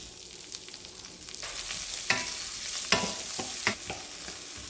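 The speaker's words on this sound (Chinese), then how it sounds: "锅中再倒一点点油，很少的油就可以了。 我们把葱段先放进去，" Scallion pieces sizzling in a small amount of hot oil in a wok, a steady frying hiss that swells as they hit the oil, with scattered stirring scrapes and clinks, close and moderately loud.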